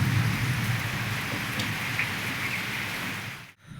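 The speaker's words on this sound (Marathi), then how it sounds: "आणि जोरदार पाऊस पडला" Heavy rain pouring steadily in a dense, even hiss, loud and close, then cutting off abruptly near the end.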